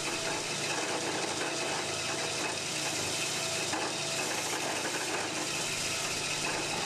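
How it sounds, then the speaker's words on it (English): A horizontal bandsaw runs with coolant flowing onto its blade, producing a steady mechanical whir mixed with a watery, sizzling wash that stays constant and fairly close throughout. "Turn on the saw. Verify that coolant is flowing and that it is directed onto the blade."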